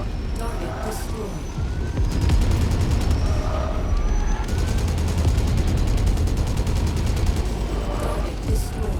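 Rapid, evenly spaced machine gun fire from a mech in a MechWarrior game, a steady stream of rattling shots with game sounds and a person talking over it.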